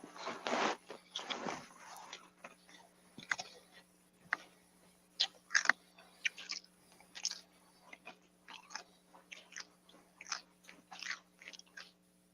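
Someone eats chips, with a run of sharp, close biting and crunching bursts spaced irregularly through the stretch, fairly quiet overall.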